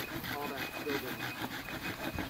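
Logs are sawn by hand outdoors in the cold for firewood, a quick steady rhythm of rasping strokes across the wood, faint and continuous.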